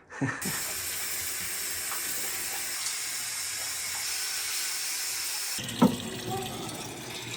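A shower runs in Peru during a road blockade amid protests, giving a steady close hiss of spraying water throughout, with a brief knock near the end.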